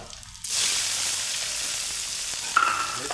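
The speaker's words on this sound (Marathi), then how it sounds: "सगळं परतून घ्यायचं हा मस्त ताड ताड ताड ताड वाजलं पाहिजे" Finely chopped onion hits hot oil already holding cumin, asafoetida and curry leaves, bursting into a loud, steady crackling sizzle after a brief quiet start, with a sharper clink of a utensil near the end.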